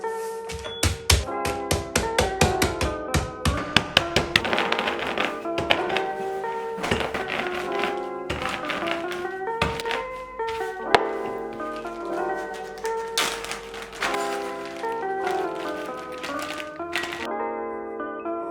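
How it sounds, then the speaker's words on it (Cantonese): Cooled roasted peanuts being crushed: a long string of close, irregular thuds and taps, some ringing slightly, with no talking. "啲花生凍咗啦，就攞出嚟研碎"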